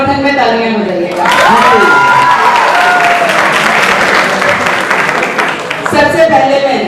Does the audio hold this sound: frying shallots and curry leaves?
no